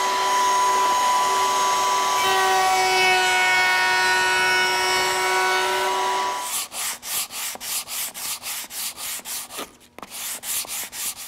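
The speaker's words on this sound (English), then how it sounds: "sand by hand to finish up the outside" A wooden box is sanded by hand on its outside, first as a steady close rasping hiss with a faint tonal whine underneath, then as quick regular back-and-forth strokes, each a distinct burst, loud and close with no talking.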